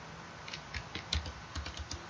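Fast keystrokes on a computer keyboard while writing HTML code, an uneven run of close, crisp taps with a few heavier key hits, no voices.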